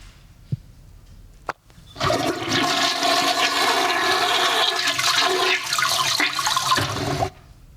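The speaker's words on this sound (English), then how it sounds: "How many times have you flushed the toilet today?" A toilet flushes in one loud, sustained rush of water that lasts several seconds after a couple of sharp clicks from the handle, then cuts off abruptly.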